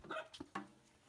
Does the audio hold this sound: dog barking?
yes